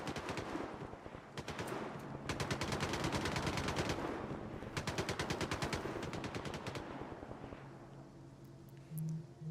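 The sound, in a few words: gunfire in video game Stalker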